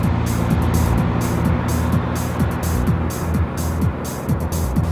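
A Suzuki Jimny JB23 on Geolandar M/T tires drives steadily, with a loud, continuous engine drone and road rumble plus a broad hiss of tread noise on the pavement, and no speech over it.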